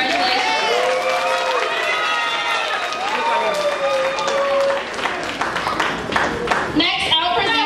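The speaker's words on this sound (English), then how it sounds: "please give them a round of applause." Applause at a first and second grade school promotion ceremony, mixed with children's high voices and chatter that carry over the clapping, growing busier and louder near the end.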